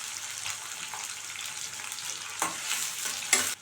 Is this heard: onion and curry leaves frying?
yes